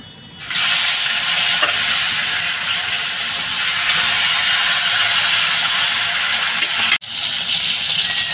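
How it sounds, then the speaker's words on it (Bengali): Snakehead (shol) fish sizzles and spits steadily in hot oil in a wok, a loud, continuous broadband fry with a brief dip near the end before the crackling resumes. "বাকি যে মাছটা রয়েছে সেটাও ভেজে নেব।"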